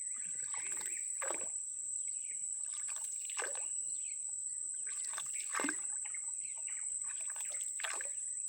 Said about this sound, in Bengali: আর বিভিন্ন প্রজাতির পাখির ডাক